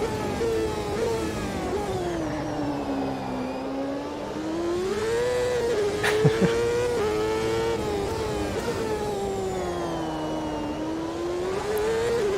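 Race car engine in the sim racing game Automobilista 2 at Road America, a loud continuous drone rising and falling in pitch through gear changes and corners, heard alone without talk.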